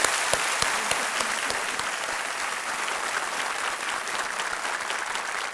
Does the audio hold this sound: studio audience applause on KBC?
yes